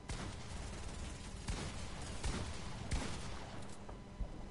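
Dense, continuous gunfire from a Fortnite match, steady crackling shots with a few louder cracks standing out, all at an even, moderately loud level.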